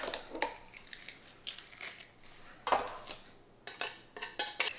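A knife minces three large garlic cloves on a cutting board, giving close, irregular chopping taps and crunches in short clusters, ending with a quick run of rapid knocks, with no speech.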